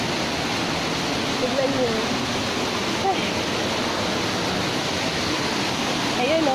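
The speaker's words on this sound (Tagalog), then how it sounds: "Ito yung second falls." Second falls of the seven-tiered waterfall at Palavilla Lutayan, Sultan Kudarat: a constant rushing roar of cascading water, fairly close, with a voice briefly speaking over it.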